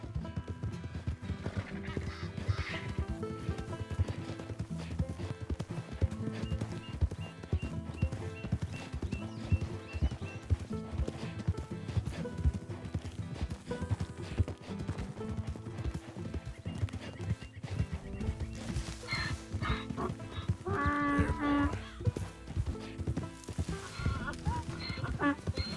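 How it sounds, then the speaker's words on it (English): Donkey hooves clip-clop in Red Dead Redemption 2 in a steady walking rhythm under game music and ambience, with a neigh-like bray and brief talk from a player. "It's just a donkey"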